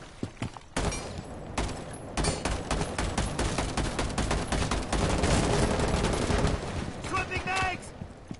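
Gunfire in Rainbow Six Siege, on the Copper map in overtime, comes as dense, loud automatic bursts and rapid single shots that run almost without a break.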